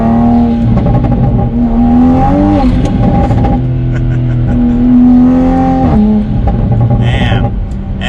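A Toyota A90 Supra fitted with a Pedal Commander accelerating hard, its engine note rising and falling through gear changes, loud and close throughout, with brief talk mixed in.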